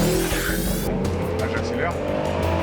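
A car engine revs and accelerates hard on a road in Réunion, with a loud rising roar and tyre noise close by. Speech is heard under the engine.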